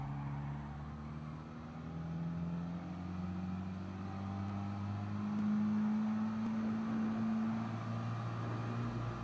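A race car in Gran Turismo Sport accelerates at full throttle around the Nurburgring Nordschleife, its engine note droning and rising steadily as it pulls through the gears, heard alone without talk.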